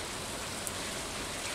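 Steady rain pours down in the farming video game Stardew Valley, a dense, even hiss of drops on the ground that stays constant from start to end with no voice over it.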